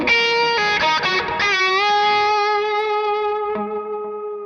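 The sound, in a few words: overdriven guitar with delay and reverb in the effects loop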